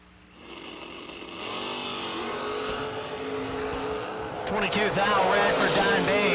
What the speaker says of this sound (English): Going to be leaving first. Don Bain's going to give chase. He brings up the Mexico-based Camaro.